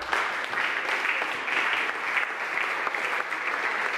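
An audience at a closing concert gives Conny a round of applause, a dense, even wash of many hands clapping at once, loud and sustained for the whole stretch without pause.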